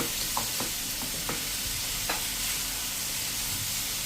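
Vegetables and boiled corn sautéed in a pan for khatta dhokla, a steady hiss of frying broken by a few light stirring knocks and scrapes, with no talk.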